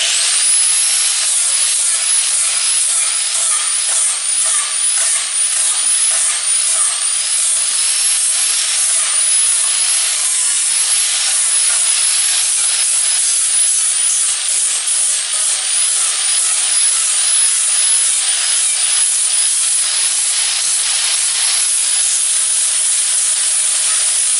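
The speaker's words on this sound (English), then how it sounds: "Now I'm going to clean this up with this flat disc and see how it looks." An angle grinder fitted with a flap disc, a type meant for steel, cleans up a Milwaukee tool box. It gives a loud, steady, high-pitched whirring hiss close by that holds unbroken throughout with slight rhythmic pulsing.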